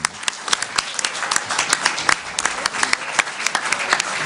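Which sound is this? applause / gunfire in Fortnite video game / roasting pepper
applause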